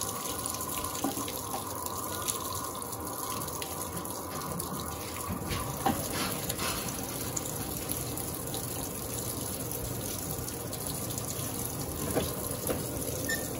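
Electrolux Turbo Aqua Jet LTA15 direct-drive washing machine filling with towels inside: a steady, moderately quiet cascade of water pours and splashes continuously, with no talking.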